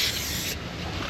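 A close, brief hiss of tire cleaner spray on a 1995 Johnson 115hp outboard intake manifold, broadband and steady, cutting off about halfway as a rougher rubbing noise continues.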